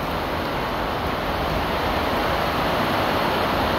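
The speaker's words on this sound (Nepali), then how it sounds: "अहिले हावा पनि एकदम चलिरहेको छ, पानी पनि परिरहेको छ एकदम।" Heavy rain and strong wind in Sharjah, a dense continuous roar of downpour and gusts that stays loud and unbroken throughout, with no voices.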